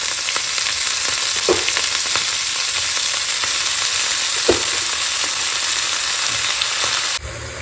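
Beto shak greens frying in oil in a pan with black cumin make a loud, continuous close sizzle with a couple of faint knocks before it suddenly drops quieter at the end.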